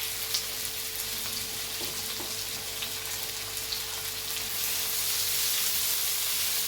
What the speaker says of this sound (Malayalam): ഉള്ളി, ഇഞ്ചി, വെളുത്തുള്ളി, കറിവേപ്പില എല്ലാം കൂടി ഇളക്കി വെക്കുന്നത്